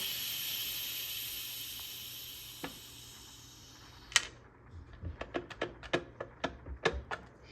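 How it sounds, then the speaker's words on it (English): A rice cooker's pressure valve is opened, releasing a loud, steady steam hiss that fades and cuts off, followed by a series of faint clicks and taps. "After about 10 minutes, you want to release all the steam from this little thing."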